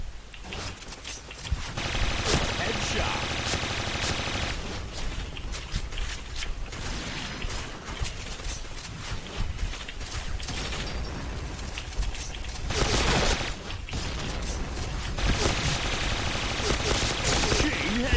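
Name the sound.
gunfire in video game Point Blank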